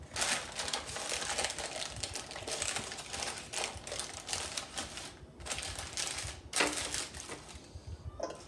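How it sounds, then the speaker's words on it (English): Parchment paper is peeled off frozen cinnamon fudge, giving close, crisp crinkling and tearing bursts with a few short pauses. "Peel back the parchment paper."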